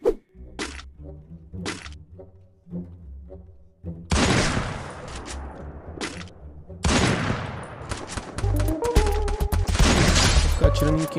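Bursts of gunfire crack and rattle in a shooting video game, with sharp single shots and rapid automatic fusillades building in density toward the end, loud and close, with a player's voice talking in between.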